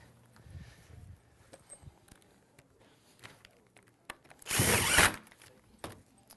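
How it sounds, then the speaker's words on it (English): A power drill drives a screw into a metal roof ridge vent with one loud, close burst lasting about a second. Light scattered clicks and taps come before it. "I'm going to fire just a couple screws in there just to hold it in place"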